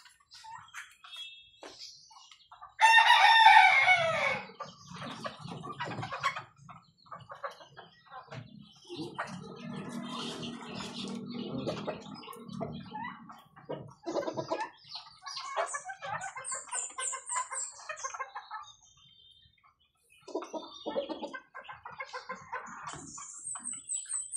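Chickens and chicks cluck and peep around a backyard flock that also includes turkeys, scattered calls near and far with an occasional louder squawk, while someone talks intermittently.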